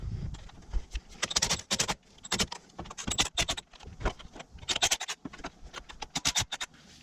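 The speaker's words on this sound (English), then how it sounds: "Next, we're going to remove these 4 12mm on the front of the throttle body." Metal clinks and scrapes rise and fall in quick, irregular bursts as 12 mm nuts are worked loose from the front of a Toyota throttle body during a starter replacement. The ratchet and nuts sound close, with no talking.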